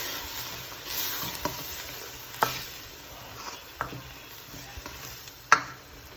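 Beef mince for shami kabab cooks in a pan as a spoon stirs it, giving soft sizzling with a series of scattered scraping knocks, quiet and close.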